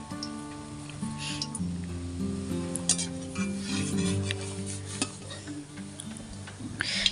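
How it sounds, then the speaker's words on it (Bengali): Semolina rasmalai sweets fry in hot oil in a pan, a soft sizzle under clinks and scrapes of a metal utensil against the pan, with steady tonal music playing throughout. "আমার সমস্ত মিষ্টিগুলো গোল্ডেন ব্রাউন করে ভাজা হয়ে গেছে"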